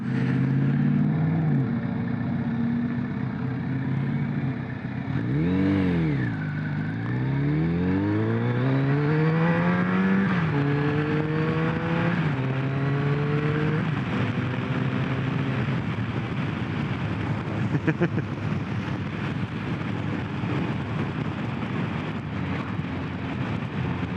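A Kawasaki ZRX1200R motorcycle with a 5-speed gearbox rides along a rough asphalt road, its engine note rising and falling through several gear changes over continuous wind and road rumble.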